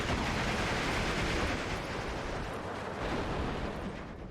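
An infantry gun fires artillery rounds in the strategy game Steel Division 2, a loud, unbroken wash of gunfire and explosive rumble with no gaps, slowly easing off toward the end.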